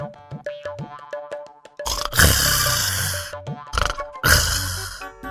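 Cartoon characters snore loudly while sleeping, with exaggerated comic snores that rise and fall in long bursts, alongside springy boing-like and grunting sound effects.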